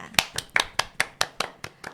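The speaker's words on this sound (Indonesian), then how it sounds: "Tepuk tangan untuk kita semua." Rhythmic hand clapping in a podcast studio, about nine sharp, evenly spaced claps, close and clear with nothing else behind them.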